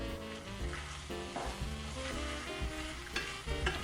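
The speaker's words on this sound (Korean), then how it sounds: "이렇게 양념이 골고루 배도록 잘 볶아주세요." Korean blood sausage (sundae) stir-fried with sauce in a pan sizzles up close, with steady frying hiss broken by repeated clacks and scrapes of stirring.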